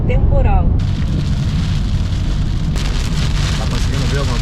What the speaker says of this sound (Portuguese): Começou a chuva.